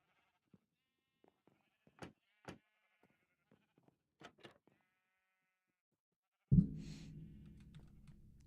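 Sheep in a video game bleat in scattered short calls, several quiet bleats spaced across the first seconds before a louder, sustained low sound takes over near the end.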